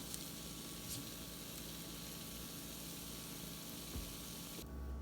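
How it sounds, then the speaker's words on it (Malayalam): Eggs fry in a pan for egg roast, a steady close broadband sizzle that stays even throughout with no talk. "ഈ മുട്ട കൂടി ഇങ്ങനെ ഇട്ടിട്ട് ഒന്ന് ബ്രൗൺ ആക്കി എടുക്കാൻ നോക്കുകയാണ്"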